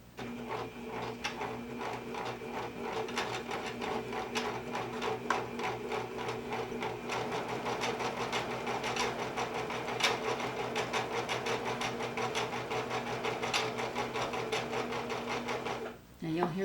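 A sewing machine stitches knit fabric in a steady, fast mechanical whir with rhythmic needle clatter, running continuously up close before stopping abruptly near the end; a voice talks over it.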